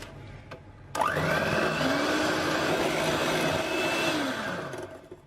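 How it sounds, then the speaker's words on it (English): An electric hand mixer whisks stevia into almond flour dessert batter, whirring loudly and steadily for about four seconds. Its motor pitch holds level, then winds down at the end. No one speaks. "give it another whisk through"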